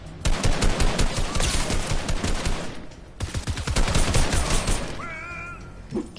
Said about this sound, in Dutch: Ik hoor wel veel schoten in